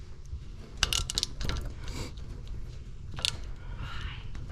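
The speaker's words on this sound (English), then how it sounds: "you're gonna loosen these bolts right here." Socket ratchet clicks in short bursts while loosening brake bolts on a Ford F150 front brake job, a few sharp close ratcheting sounds over faint background noise.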